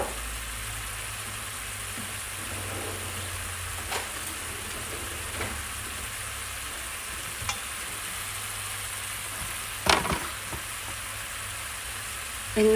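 Chinese dumplings frying in a pan with a few drops of oil and a little water left, a steady soft sizzle with occasional faint taps and clinks, no talking.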